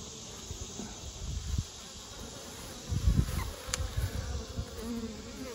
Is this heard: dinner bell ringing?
no